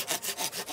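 Hand saw cutting through bamboo for bamboo-tube rice, with quick back-and-forth strokes at a regular rhythm, close and fairly quiet, with no voices.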